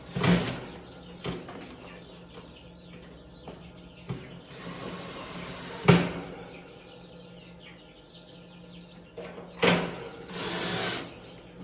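Screws being driven into wood to fasten a brooder cage down to a table, a run of short mechanical whirring bursts with sharper knocks and clicks between them, fairly close and with no one talking.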